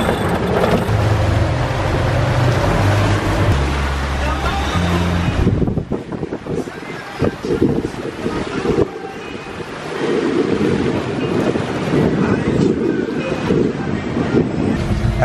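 Strong gusting wind buffets a sailboat at sea, a loud steady roar with broad rushing noise that drops briefly midway before surging again, with water wash underneath.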